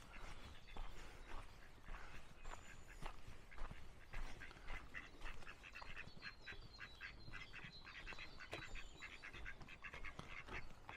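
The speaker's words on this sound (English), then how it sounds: "So you've got some ducks joining us." Ducks on a lake quack in a busy, overlapping chatter, many calls in quick irregular bursts at moderate distance, heard on a woodland walk with no talk over them.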